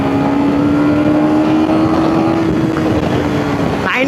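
A KTM Duke 250 or Pulsar RS 200 motorcycle accelerates hard in third gear, its engine note rising steadily under strong wind rush, loud and close throughout.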